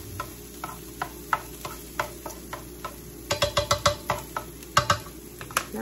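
Steak for Philly cheesesteaks fries in a pan under a low sizzle, while a utensil clicks and scrapes against the metal in quick irregular bursts, busier toward the middle.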